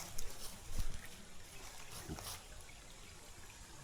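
Clear stream bubbling and trickling at a campsite, a soft steady wash of water with a few brief splashy bursts, faint and close.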